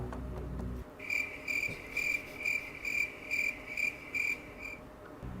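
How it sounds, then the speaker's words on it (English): A cricket chirps steadily in a rhythmic, high-pitched pulse, about ten evenly spaced trills, used as an added sound effect after a brief low rumble at the start. "you can put that cricket sound there"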